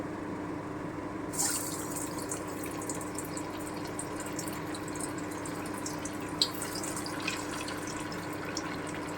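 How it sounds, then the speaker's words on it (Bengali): Chhana (paneer) balls frying in oil over very low heat, a steady, soft, even sizzle throughout, with a few faint crackles and pops and no talking. "আমি হালকা বাদামি করেই ভেজে নেব"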